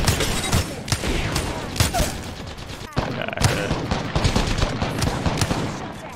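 Gunfire in the Apex Legends video game: rapid, dense bursts of automatic weapon shots crack continuously with a brief pause midway, close and loud, while a player talks over the action.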